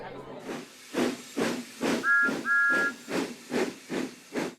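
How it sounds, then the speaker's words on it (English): Thomas the steam engine puffs out loud, rhythmic bursts of hissing steam, about eight evenly spaced chuffs, with a brief whistle-like tone partway through. "The faster Thomas goes, the more steam he makes."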